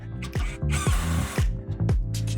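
A power drill drives screws into a shed wall in short, rapid bursts that rise and fall in pitch. The bursts are loud and close, with brief gaps between them.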